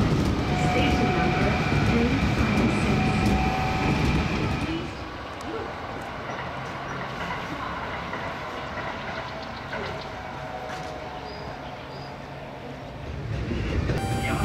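A Kintetsu Nara Line eight-car rapid express, made of four coupled two-car sets, runs through the Heijo Palace site toward Yamato-Saidaiji Station: a loud, continuous rumble and rolling roar that eases midway and swells again at the end, with narration over it.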